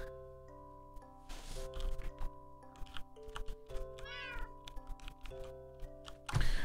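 Cats meow a few times in Minecraft, short in-game mews rising over steady background music, moderately close.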